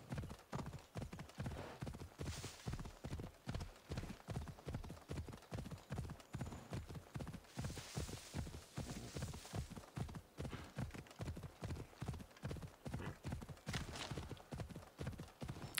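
Horse galloping in the video game Assassin's Creed Odyssey, a fast, evenly rhythmic run of hoofbeats continuing throughout, fairly quiet, with occasional snorts and brief rushes of wind-like noise.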